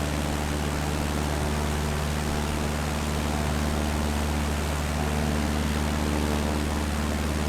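The propeller engine of a de Havilland DH-88 Comet racing plane in Microsoft Flight Simulator drones steadily and loudly, a constant buzzing hum with airy rushing noise and no pauses.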